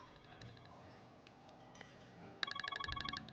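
A telephone rings indoors with a quick chirping electronic ringtone that starts suddenly and repeats in rapid pulses, fairly quiet against a low background hum.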